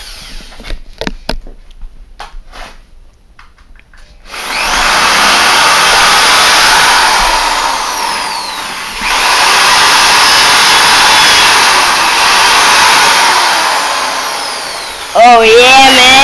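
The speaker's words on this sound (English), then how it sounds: "Well, we're gonna use the drill." A power drill bores into a vintage Swing 600 mobile phone, whining loudly and continuously for about ten seconds with a brief pause midway, after a few sharp knocks and handling sounds.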